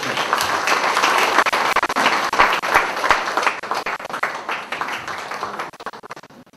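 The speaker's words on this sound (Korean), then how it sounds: "박수로 맞이해 주십시오" Audience applause at a Democratic Party local committee lecture event in Seongnam, dense steady clapping that fills the room and tapers off toward the end.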